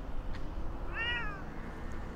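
A pet cat gives a short whining meow over steady wind and ambient noise in a European parking lot beside a dog park, heard in a camper van.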